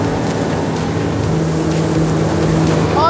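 Police motorboat cruising slowly through a harbour, its engine a low steady drone under rushing water and wind noise, close and fairly loud, with a faint whistle-like tone near the end.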